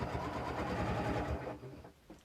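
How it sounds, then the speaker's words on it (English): A sewing machine stitching binding onto a quilt with a quilt binder attachment, whirring steadily and close at a slow, even pace, then winding down and stopping near the end. "lower your needle, and then grab onto those threads and then start sewing slowly."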